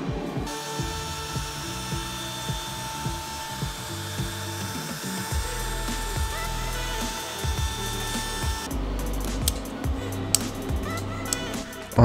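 A PrintNC CNC router mills oak with a ballnose bit along a coarse 3D adaptive toolpath, giving a steady high spindle whine over a rattling, chattering cut that shifts in pitch as the tool moves, continuous and close.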